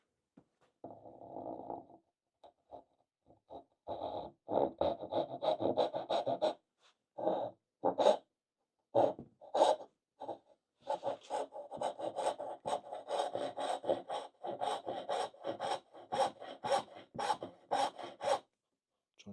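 A hand saw rasps through wood while cutting inlaid dovetails, in steady back-and-forth strokes that start short and hesitant, then settle into a fast, continuous rhythm, close and fairly loud, with no talk.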